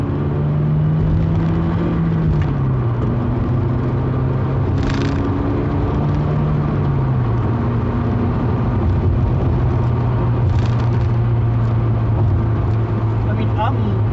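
An MG F roadster driving on the road, heard as a loud, steady engine drone from inside the car with slowly shifting pitch, while someone talks over it throughout.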